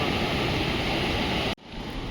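Milky white mountain stream on the Gangotri to Kedarnath trail, a dense, loud, steady rush of water close by that drops out abruptly near the end, then swells back.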